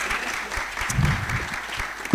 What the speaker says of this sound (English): Please, a huge round of applause for Dr. Fawad